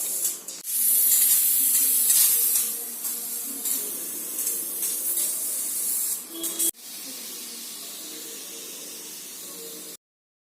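Steam sprays out of a faulty pressure cooker set on low heat after one whistle, a loud, continuous hiss heard up close that wavers slightly, breaks off abruptly, then resumes steadily until it cuts out.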